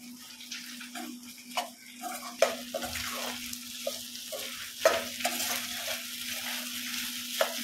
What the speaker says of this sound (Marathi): आता इथे मी शेंगदाण्याचं कूट करून घेतलंय, ते मी याच्यामध्ये मिक्स करते